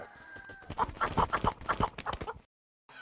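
Native Kerala chickens cluck in a quick series of short clucks close by, then the sound cuts off abruptly into silence.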